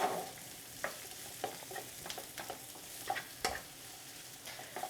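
Vegetables stir-fry in a hot pan with a soft, steady sizzle. Irregular scraping and tapping strokes of a spatula against the pan sound up close.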